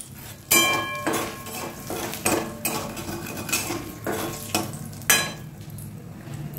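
Spices with salt and turmeric being stirred in a cooking pan over low heat for a fish-head and bottle-gourd dish, a series of sharp metallic scrapes and knocks of a spatula against the pan.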